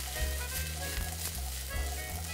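Ingredients for a vegan carbonara sizzle steadily in a hot pan, a continuous close frying hiss with a low hum beneath and no talking.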